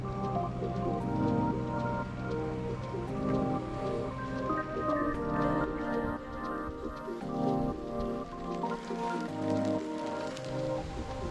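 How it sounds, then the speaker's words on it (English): Rain coming down hard at Castaway Cay, a steady, dense patter on surfaces that continues throughout the clip, with busy outdoor sounds mixed in. "riding in the rain. Dancing in the rain. It's coming down."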